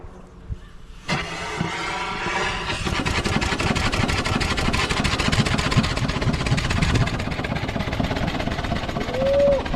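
Steam-powered lawn mower fired up and building pressure to around 60 psi, giving a steady, loud mechanical chuff and hiss that starts abruptly after a brief quiet moment and runs continuously nearby.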